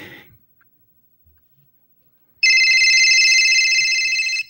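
After a brief rustle and near silence, a telephone's electronic ring bursts in loudly and trills steadily for about two seconds.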